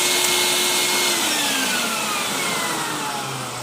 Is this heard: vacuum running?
yes